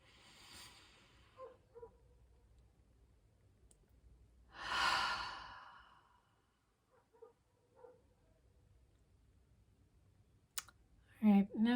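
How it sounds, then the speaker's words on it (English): A slow deep breath during a guided meditation swells and fades once near the middle, set among quiet pauses with soft clicks and faint stirring, followed by a brief closing breath at the end. "Breathe in through the nose. Exhale anything you're holding with the mouth."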